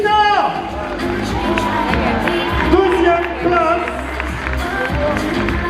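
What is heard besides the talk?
audience applause and cheering at bodybuilding show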